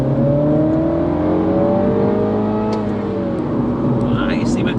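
A 2016 F56 Mini John Cooper Works pulls hard in second gear on a road. Its engine note climbs steadily, loud and close from inside the car, with a steady whir of road noise underneath.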